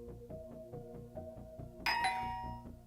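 A doorbell sound effect rings once with a bright ding that rises sharply out of a quiet, rhythmic low musical background and then fades slowly.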